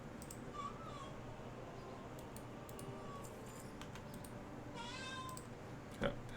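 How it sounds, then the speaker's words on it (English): A house cat meows insistently at close range, with a few rising, drawn-out calls scattered across a low background hum, the loudest cry near the end. "Hello, cat. Why are you screaming at me?"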